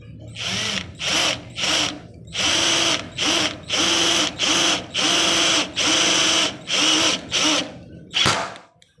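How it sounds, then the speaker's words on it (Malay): A power drill driving screws into cement board fitted on a frame, loud close whirring in repeated bursts of about half a second to a second, separated by short pauses, ending with a sharp knock. "kita letak kita skru"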